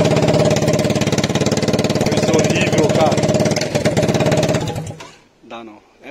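A Kymco Downtown 300i scooter engine runs with its exhaust removed, a loud, harsh, rapidly pulsing drone that holds steady for about five seconds, then cuts off abruptly into quiet with a brief mechanical rattle.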